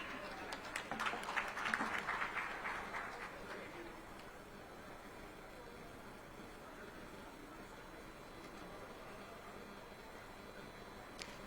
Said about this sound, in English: A kind request from you all to please keep clapping.